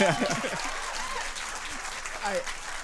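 Audience applause at a comedy show on a 1983 recording plays back, a moderate burst that fades a little, with speech over it.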